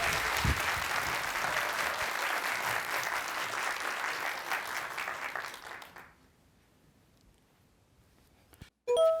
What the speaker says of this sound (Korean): 오늘의 강연자 성정민 부소장을 박수로 맞아 주십시오.